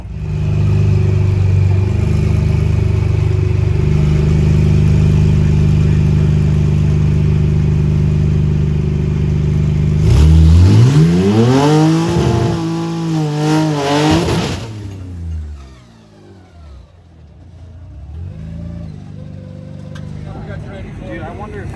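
Car engine at a burnout championship, a loud sustained roar at high revs, then a wailing series of rises and falls as it revs hard before cutting off, with voices talking nearby.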